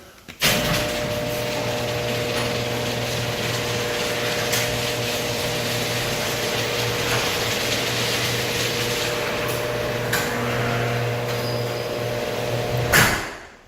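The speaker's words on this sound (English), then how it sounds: "the garage door openers, but they work and they're fine for now. Let me show you how they work." Residential garage door openers run with a steady motor hum and rattle for about thirteen seconds. A thump marks the start and a clunk marks the stop, with no talking.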